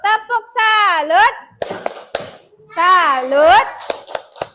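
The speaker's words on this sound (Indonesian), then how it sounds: "Kita tepuk salut." A group performs the 'tepuk salut' rhythmic clap in a classroom-style gathering, sharp sets of claps punctuating loud chanted voices in a call-and-response pattern, close and lively.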